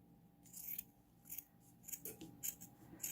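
Scissors snip at canvas fabric while a homemade mask is trimmed, a series of quiet, quick cutting strokes in short irregular bursts, heard up close with no talk.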